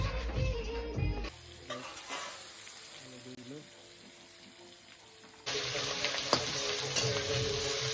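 Onions tipped into a hot pan over a lit stove for a duck curry, giving a burst of loud sizzling that settles into a steady frying hiss, then swells again with stirring and scraping; no voices.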